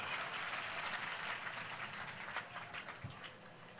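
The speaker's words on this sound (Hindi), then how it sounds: "इस बात पे ताली बजा सकते हो आप लोग" An audience at the Meera Mahotsav 2025 gathering claps in a dense, fairly distant patter that gradually thins and fades over a few seconds, with no speech over it.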